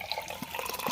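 Coconut water pours into a glass in a short, close trickle of gurgling, splashing liquid.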